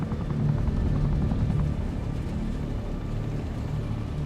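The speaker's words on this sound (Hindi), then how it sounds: "यहाँ पे जो हेलीकॉप्टर लेके घूम रहे हैं वो सब रिपोर्टर लगते हैं" Helicopters flying over a military base in the Batman game The Dark Knight Rises, a steady loud rotor rumble that fills the whole stretch without a break.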